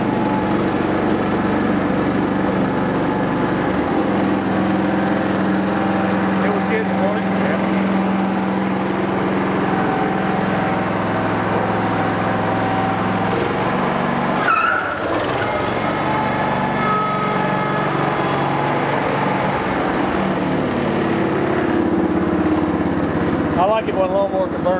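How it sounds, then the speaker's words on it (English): A Massey Ferguson 14 riding lawn mower engine runs steadily and loudly up close, droning without pause while people talk over it. "I like it when a lawnmower can burn tires standing still."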